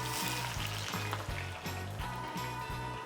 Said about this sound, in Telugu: ఎలా బ్రౌన్ ఆనియన్ ఫ్రై చేసుకోవాలో చూపెడతాను మీకు